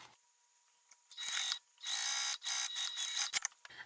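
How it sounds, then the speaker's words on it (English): Sewing machine stitching across fabric pieces, a close, rattling mechanical whir in several bursts separated by short gaps after a quiet start. "and then I just sew across the top"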